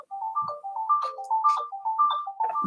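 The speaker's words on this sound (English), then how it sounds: "Somebody's phone." A mobile phone rings during a committee meeting, a repeating melodic electronic ringtone of short tones cycling continuously and fairly clearly through the room, with no one talking.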